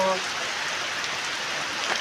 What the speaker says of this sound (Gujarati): મુશળધાર વરસાદ છે